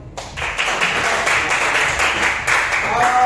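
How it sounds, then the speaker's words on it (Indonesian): A classroom group of students claps together, a fairly loud, dense burst of hand claps lasting a few seconds. "Tepuk tangan buat dulu."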